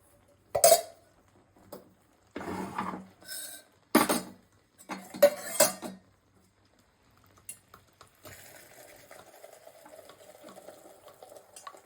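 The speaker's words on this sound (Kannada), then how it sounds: "ಇವಾಗ ಒಂದು ಪಾತ್ರೆಗೆ ಸೋದಿಸ್ಕೊತಾ ಇದ್ದೀನಿ." Melted jaggery syrup is strained into a vessel. A few separate bursts of scraping and clinking metal utensils are followed by a quieter, steady trickle and rustle.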